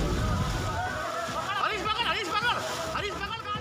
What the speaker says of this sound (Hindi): जिले के बयाना कस्बे के बाजार में भारी बारिश के बाद सड़कें पानी में डूब गई।